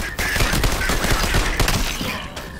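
Rapid bursts of automatic gunfire in the FPS game Out of Action, dense and loud with overlapping shots filling the whole stretch with no talk.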